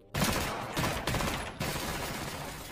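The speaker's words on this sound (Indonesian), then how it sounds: "Hingga setelah para remaja itu pergi, tiba-tiba Mudir muncul dan sempat menembak kaki Jed." Rapid bursts of gunfire from a gangster action film, loud and dense, coming in several waves of sustained shooting with no speech over them.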